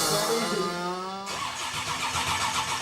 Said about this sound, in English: The engine won't fire, and it's got Barry beat.